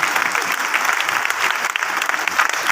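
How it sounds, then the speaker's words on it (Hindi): Celebration audience bursts into hearty applause: a brief, continuous wash of loud, dense clapping close by, with no voices standing out. "एक बार सबके लिए जोरदार तालियां।"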